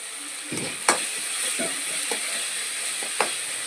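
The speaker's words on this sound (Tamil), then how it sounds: "தக்காளி நல்லா வதங்கட்டும்." Tomatoes sautéing in a pan for a South Indian okra tamarind curry, a steady close sizzle and frying hiss with a few sharp stirring scrapes and clinks, no voices.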